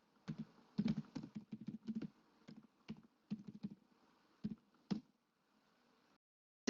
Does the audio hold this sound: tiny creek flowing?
no